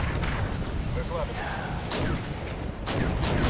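Tanks firing in Wargame European Escalation, a steady barrage of cannon booms and battle noise, with a couple of sharp blasts standing out, while a voice talks over it.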